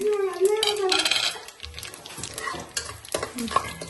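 Mustard seeds crackling and sizzling in hot oil for tomato bath, a busy close fizz with small pops while a voice talks over it throughout.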